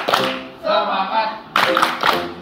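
A group of teachers in a quarantine program clap a rhythmic spirit cheer in bursts, with loud voices chanting along between and over the claps.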